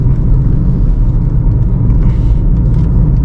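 A car engine runs with a steady low rumble while driving in traffic, loud and continuous, with a constant whir and road noise underneath.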